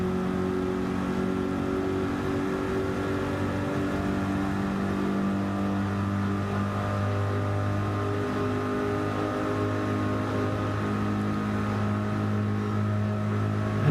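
Corvette GT3 race car engine at Daytona in Gran Turismo 7, a steady droning hum held at near-constant pitch with a slight gear shift midway, loud and continuous throughout.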